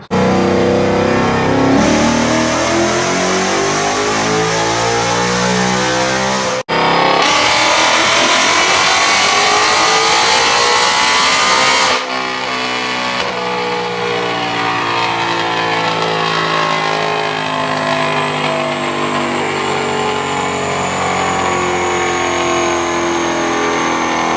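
A 2018-19 Mustang GT engine with stock active exhaust revs hard in repeated climbing bursts, loud and close, with a deep exhaust roar and brief drops between pulls.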